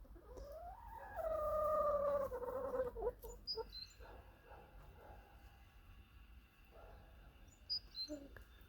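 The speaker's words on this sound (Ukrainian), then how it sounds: "Пташки співають." Faint chirps and whistles from birds somewhere in the distance, scattered through a quiet outdoor background. A long tonal sweep near the start.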